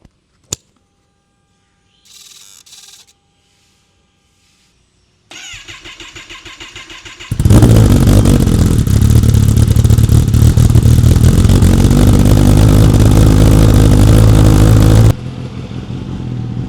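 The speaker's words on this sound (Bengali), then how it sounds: "বহুদিন বাদে এবারে আজকে স্টার্ট দিচ্ছি, দেখা যাক একবারেতে স্টার্ট হয় কি না।" Motorcycle engine cold-started after sitting unused for a long time: a sharp click and brief cranking, then the engine catches and revs loudly at close range for several seconds before settling to a steady idle.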